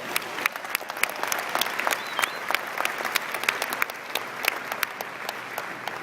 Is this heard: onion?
no